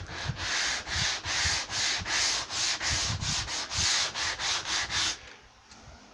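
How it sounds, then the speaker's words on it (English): Sandpaper rubbed over a primed, painted MDF edge in steady back-and-forth strokes, about a dozen even rasping passes close to the mic before it stops and falls quiet. "So you want to sand that smooth again."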